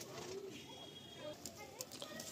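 Madrasi pigeons coo softly in a low, throaty murmur, faint and somewhat distant against steady background noise, with a few sharper bird sounds near the end.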